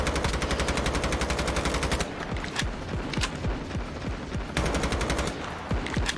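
Battle royale video game gunfire: rapid automatic bursts crack in quick succession, with brief pauses between volleys and steady firing for about six seconds.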